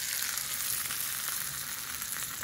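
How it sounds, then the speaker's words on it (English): A bright, steady sizzle of sliced garlic frying in a hot pan, continuous and close, with no voices. "You hear that sizzle?"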